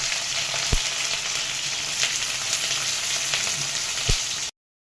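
Sliced onions sautéing in hot oil for dry chilli chicken, a loud, steady crackling sizzle with a couple of sharp clicks from the pan, cutting off abruptly near the end.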